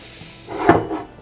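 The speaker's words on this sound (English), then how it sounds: "almost dropped my water bottle" A water bottle is nearly dropped and fumbled, making one brief, close rubbing, scraping handling noise that swells and fades within about a second in an otherwise quiet room.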